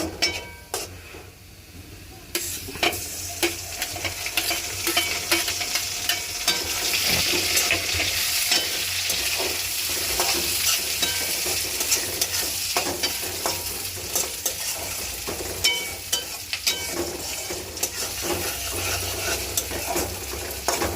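Onions fry in a pan until golden, a continuous loud close sizzle with frequent stirring scrapes and spatula clatter running throughout, with no voices.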